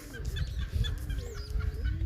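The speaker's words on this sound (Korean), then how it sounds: "닭들이 있는데 한번 가보겠습니다" Chickens cluck in short bursts from nearby at a farm-like outdoor spot, with low rumbling background noise throughout.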